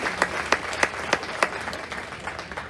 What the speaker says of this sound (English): Give yourself a big round of applause, please